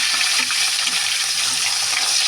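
Rohu fish frying in hot oil in a wok, a steady broad sizzle that holds close and loud with no talk over it.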